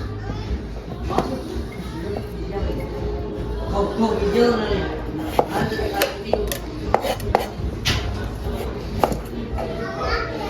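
A knife chopping chayote or zucchini into chunks for chicken sancocho, scattered sharp cuts against a board in a busy home kitchen, with children's voices and chatter running underneath and occasional clinks of dishes.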